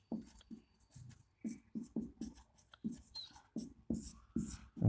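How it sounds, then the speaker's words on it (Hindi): Chalk or marker writing on a board, a rhythmic series of short scratchy strokes in quick bursts, close and moderately loud, with no talking. "मैं यहाँ लिख देता हूँ"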